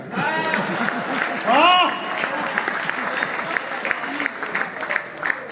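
An audience at a Hindi comic and satirical poetry recital claps steadily throughout, the applause running under a voice and some laughter.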